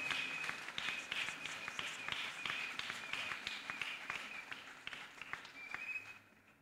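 A congregation at a French-language church service claps together in a steady, rhythmic pattern, moderately distant and filling the room, before fading out at the end.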